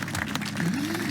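Tennis crowd applause at the Crambrook Tennis Classic after a winning shot, a fairly soft, steady patter of clapping heard from a distance with faint crowd murmur.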